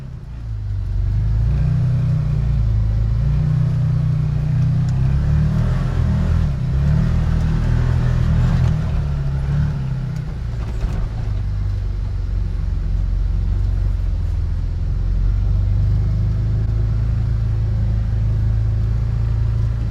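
A Can-Am Defender Limited UTV on 32-inch tires drives through snow in all-wheel drive with the rear differential locked. Its engine gives a loud, steady low rumble that swells under throttle and continues throughout with no talk.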